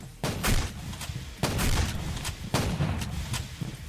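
Demolisher shotgun in the video game Doom firing three heavy, booming blasts at roughly one-second intervals, each with a rumbling tail, close and loud with no talk.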